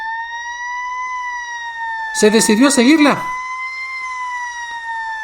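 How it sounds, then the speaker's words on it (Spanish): A steady, wailing emergency siren holds a long rising-falling tone throughout, moderately loud, with someone briefly speaking over it in the middle. "aquella sirena se escuchaba a lo lejos"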